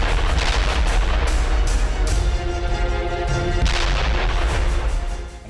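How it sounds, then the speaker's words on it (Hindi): Bombs and artillery fire hitting Hezbollah positions during a ground operation in Lebanon: a loud, continuous, dense barrage of rumbling blasts and crackling impacts that lasts throughout, with no voices. "हिजबुल्लाह के ठिकानों पर भी बम बरसाए जा रहे हैं"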